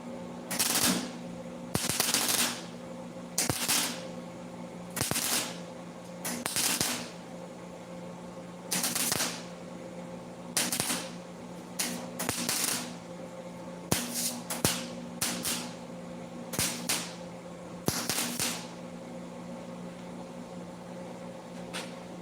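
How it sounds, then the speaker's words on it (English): MIG-style welding on a Lamborghini replica build, with repeated short crackling bursts of a few seconds each separated by pauses, close and fairly loud over a steady background hum, no speech. "that fire and smoke in the welding area, probably not good for the quality of weld"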